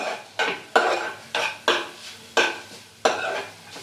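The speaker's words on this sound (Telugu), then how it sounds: "క్యారెట్ మనకి ఆల్మోస్ట్ ఫ్రై అయిపోయింది" Carrots frying in a pan for carrot rice are stirred with a utensil in about six regular, close scraping strokes, each a sharp rasp that fades before the next, with no voices.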